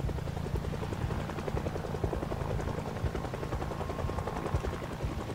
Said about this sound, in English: Yeah, look how that chopper is just tracking all of it.